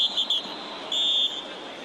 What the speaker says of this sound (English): I hear the whistles, but I don't see a yellow flag anywhere